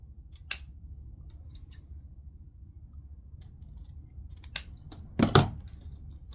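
Scissors snipping material for a Valentine's wreath at an angle. A few sharp, isolated cuts over quiet room noise lead to a louder cluster of crunchy snips near the end.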